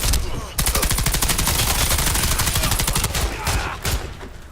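Rapid automatic gunfire from a gun in the Warface video game, a long steady burst of closely spaced shots, loud and near, with a short pause and a few further bursts near the end.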